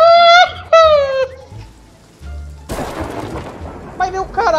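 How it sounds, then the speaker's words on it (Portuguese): Lightning strikes and thunder in a video game crack in as a sudden loud burst that rumbles and hisses for a few seconds, with excited shouting voices before and after it. "esses raios me seguem"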